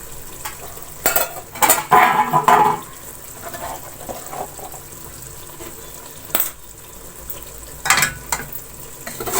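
Aloo chicken sizzling and frying in a pot on a stove, a soft continuous crackle broken by a few louder scraping stirs and clinks of a utensil against the pot.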